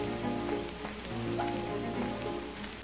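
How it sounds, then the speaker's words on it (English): Rain falling in a Sherlock Holmes video game during a forest fire scene, a steady, even patter of drops on a surface with a light repeating ticking throughout. "I like how it's raining."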